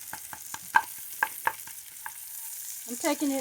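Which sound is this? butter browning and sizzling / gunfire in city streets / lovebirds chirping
butter browning and sizzling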